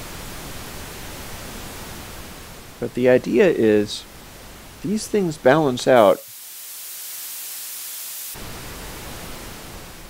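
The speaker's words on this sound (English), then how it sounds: "Might just be the way the pink noise works." A pink noise test signal plays through subwoofers as a steady broadband hiss, with someone talking over it before a sudden cut to a thinner, filtered noise.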